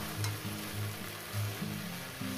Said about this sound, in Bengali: দিয়ে এটাকে এবার ভাজতে থাকবো